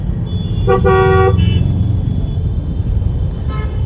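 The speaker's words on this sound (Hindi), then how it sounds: "मतलब ऐसा नहीं कि गाड़ी रुकी हो, चल रही है स्लोली" Car creeping slowly through heavy road traffic near an underpass, with a steady low rumble and a couple of short car horn toots nearby, one early and a fainter one at the end.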